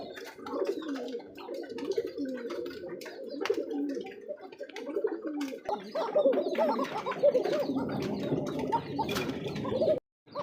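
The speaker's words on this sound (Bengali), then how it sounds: "দর্শক দেখেন 4 নম্বর জোড়া ককা কবুতরের যে সিঙ্গেল নটটার ডাকটা দেখেন" Pigeons coo steadily in low, throaty rolls that repeat continuously, close by, with faint chirps and flutters in the background.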